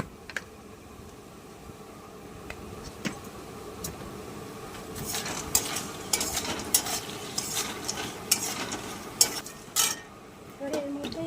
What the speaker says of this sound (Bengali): এবার আমি ডালের বড়ি দিয়ে দেবো।